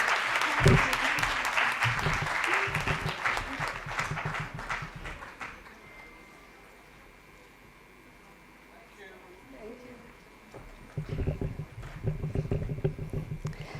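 Applause from a seated audience at a club event rises in a dense burst of clapping, fades into quiet murmuring, then swells again toward the end.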